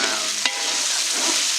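Onions sizzle in a hot pan for biryani with a brief scrape of stirring midway, a steady crackling hiss throughout.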